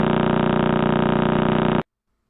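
A radio recording of the Crab pulsar B0531+21, spinning about 30 times per second, gives a rapid, steady buzzing pulse like a low drone that cuts off sharply into silence.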